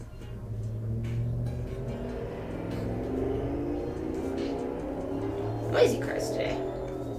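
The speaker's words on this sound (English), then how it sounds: "Noisy cars today." Cars pass outside on a street, a low engine rumble swelling and fading with revving, heard in the background of an indoor crafting session, with a brief sharper burst near the end.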